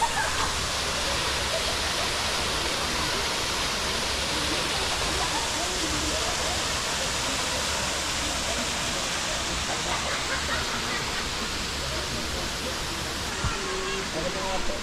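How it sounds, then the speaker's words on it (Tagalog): The waterfall at Catmon Falls in Magallanes, Cavite gives a loud, steady, broadband rush of falling water that fills the scene without pause, with faint voices under the roar. "Ayan ang falls."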